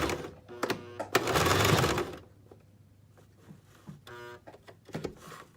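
A sewing machine reverse stitches across fabric to lock the seam of a scrunchie. A close, buzzing run of stitching lasts about a second, followed by quieter clicks and short mechanical bursts.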